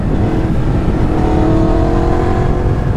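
A 2018 Yamaha MT-10 naked motorcycle engine roars loud and close, a dense sustained rumble with a rising whine partway through.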